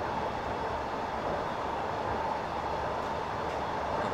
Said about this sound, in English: Another train there.